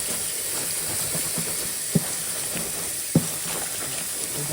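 Running water pours steadily while turnip greens are washed in a sink, a constant close hiss with two soft knocks from handling along the way.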